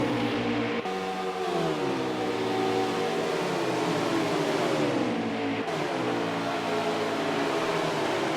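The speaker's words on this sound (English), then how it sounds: "you just hear the sound of the Xfinity cars whistling by" Xfinity stock cars in a virtual racing championship at Atlanta roar past in a continuous engine drone, with pitch sweeps rising and falling as cars pass, loud and steady throughout.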